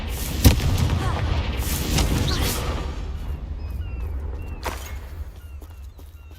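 Confringo explosive curse from Hogwarts Legacy, with a sharp booming blast followed by crackling rumble and a second burst, game effects fading out afterward.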